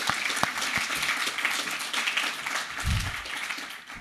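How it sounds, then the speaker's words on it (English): An audience claps steadily throughout at a livestreamed discussion event at Fife College, with dense, even applause and no talk over it. "Can we clap for that?"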